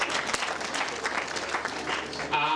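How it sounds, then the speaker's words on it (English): Grade 12 students at a high school farewell applaud themselves, a short burst of dense crowd clapping in a hall. "Clap for yourselves."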